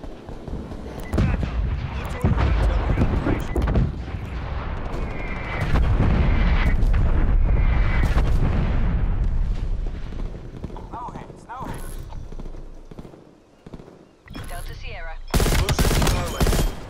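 Artillery and gunfire on a Call of Duty Black Ops Cold War battlefield: heavy booms, rattling shots and dense rumbling combat noise throughout, with loud sharp blasts near the end and game voices speaking at times.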